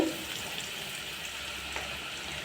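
Chopped onions and green chillies fry lightly in a pan, a soft continuous sizzle with faint crackle heard close and alone.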